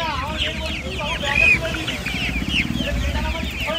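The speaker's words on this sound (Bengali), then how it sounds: "এখানে দেখতে পাচ্ছেন অস্ট্রেলিয়া মুরগি আছে" Australorp chickens cluck and squawk close by at a busy poultry market, with overlapping bird calls over a constant background of crowd noise and talking.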